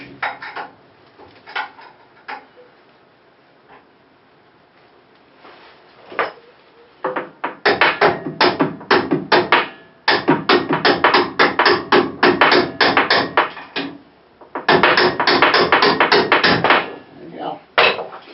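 A small screwdriver used as a punch is tapped against the rear end of a Nissan Frontier, giving sharp metallic knocks that start sparse and then come in rapid bursts of hits, close by.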